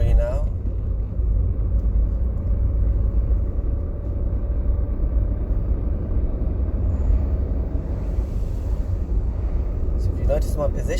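Steady low engine rumble and road noise from inside a car during a driving lesson as it accelerates and shifts up to third gear, continuous and close with a brief voice near the end.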